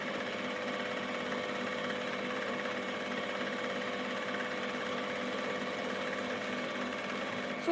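A sewing machine stitches a curved seam on a four-piece skirt, running as a steady, close, unbroken whir from start to finish.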